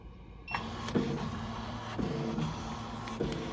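A Ricoma MT1501 embroidery machine traces a design outline for a beanie, a steady electric motor hum with the hoop carriage shifting in short mechanical clunks roughly once per second, close and continuous, no talking.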